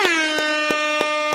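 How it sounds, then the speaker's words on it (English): An air horn sound effect blares in a loud, sustained, brassy tone, chopped by short gaps into several repeated blasts over a little over a second. "get the air horns"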